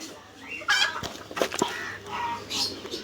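A black Lakha chicken kept at a village bird collection clucks and calls in several loud, close bursts, with other bird sounds and a little background noise between them.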